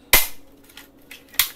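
A black toy pistol fires with a loud, sharp cap-gun crack, then after a pause a second shot; faint clicks of handling fall between the two bangs.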